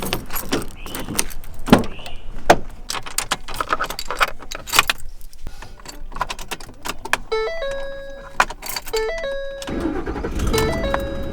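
Inside a pickup truck, keys jangle, a door thumps shut and clicks and rattles follow. A series of steady electronic chimes rings, then the engine cranks and starts with a low rumble.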